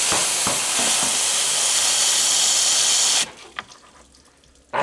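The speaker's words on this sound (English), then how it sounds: "I'm rinsing it with warm water to get to the bolt that holds the battery in." Warm water rinses frozen mud off the bolt holding a vehicle battery in place: a steady, loud rushing hiss for about three seconds, then it cuts off, leaving faint scattered knocks.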